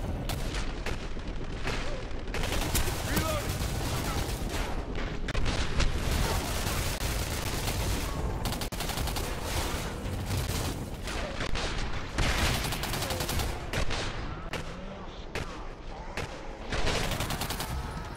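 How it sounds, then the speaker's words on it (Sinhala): Rapid bursts of gunfire in the video game Singularity, loud and close, with dense overlapping shots and booms rattling on for the whole stretch. "අඩෝ වෙඩිල්ලත් යනවා පේනවා"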